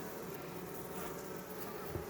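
A dense, steady buzz of many imported bees swarming close by, continuous and fairly faint, with no voices.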